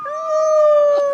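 A soldiers' dog howls in one long, steady, rising tone, loud and close, with a faint whine near the end.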